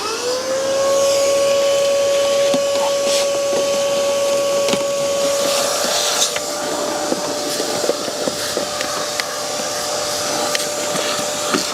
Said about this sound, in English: we'll go in here with a good vacuum.